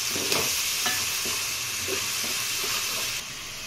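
An onion and tomato paste for an Uttarandhra-style fish curry fries in oil with a loud, continuous sizzle, interrupted by occasional stirring scrapes and taps.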